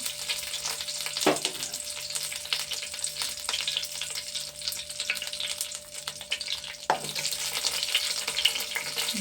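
Curry leaves sputter and crackle in hot oil in a pan, a steady close frying sizzle with occasional louder pops and stirring bursts.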